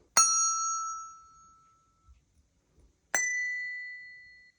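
A Montessori bell is struck twice, about three seconds apart, and each strike gives a clear, bright ring that fades away slowly. The sound is close, with near silence between the strikes apart from faint handling noise.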